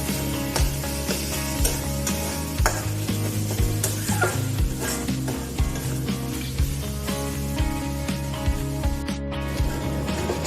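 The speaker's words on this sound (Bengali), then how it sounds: "লো হিটে একটু সময় নিয়ে ভেজে নিয়েছি" Bele fish jhura, flaked fish with onion and turmeric, frying slowly in a pan over low heat, with a soft continuous sizzle broken by repeated scraping and clinking of a spatula stirring nearby.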